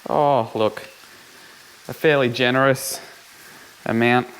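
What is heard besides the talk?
bacon and chillies sizzling in a pan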